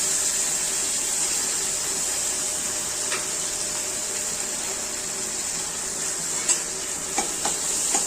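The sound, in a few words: potatoes and carrots stirred and frying in pan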